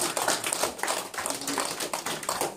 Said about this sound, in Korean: 격려 박수 올려드립니다